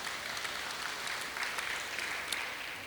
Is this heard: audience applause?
yes